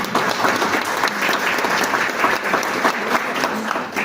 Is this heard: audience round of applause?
yes